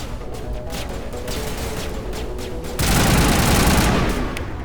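Gunfire in the video game Mass Effect, a rapid rattling fusillade of shots that swells into a loud, dense burst of sustained fire partway through.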